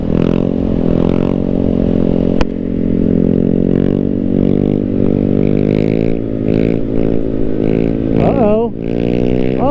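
A motorcycle engine in a video game drones loudly and steadily with harmonic revving, pitch rising and falling through the wheelie, while people talk and laugh over it.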